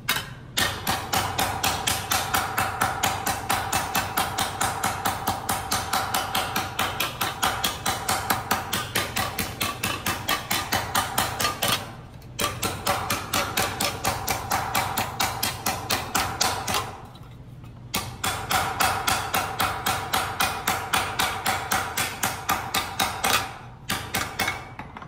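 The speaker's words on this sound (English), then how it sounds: "you wanna use a poly hammer on the beater bag" Rapid, rhythmic poly hammer blows shaping a metal panel on a padded beater bag, close and steady, in long runs broken by a few short pauses.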